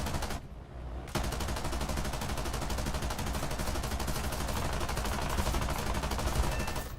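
Aircraft machine gunners firing in a flight combat game: a dense, continuous rattle of rapid automatic gunfire that cuts in after a brief lull at the start and stays loud and steady, with no talking.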